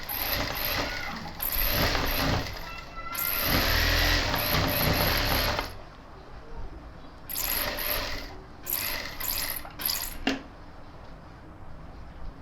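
A sewing machine runs in close, loud bursts while stitching a gents suit, whirring and clattering for several seconds, falling quiet, then starting again in shorter stop-start runs.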